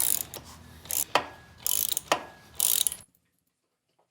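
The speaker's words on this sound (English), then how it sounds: "loosen the two bolts on the brake caliper and remove" A hand ratchet works on the front brake caliper bolts of a Honda CB1100, four loud, close bursts of rapid clicking with short pauses between, then silence.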